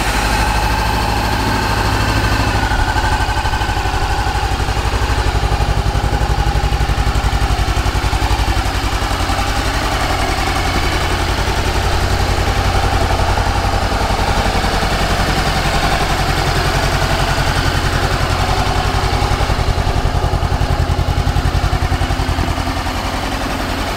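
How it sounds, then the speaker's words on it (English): A 2014 Honda CB500X motorcycle engine idles steadily at close range, a dense low rumbling drone with a rapid mechanical pulse and no voices. "Let's fire this thing up so you guys can hear it run."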